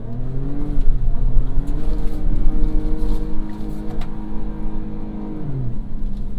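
A Ford Raptor pickup crawls along a narrow desert trail in first gear, its engine droning steadily up and down in pitch alongside a constant rumble and rattle from the rough ground.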